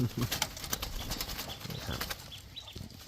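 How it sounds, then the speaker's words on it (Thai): Several captive spotted doves coo softly in a quiet setting, overlapping calls with a faint flutter of wings. "อันนี้คือนกเขารวม คัดเสียงรวมไว้นะครับ"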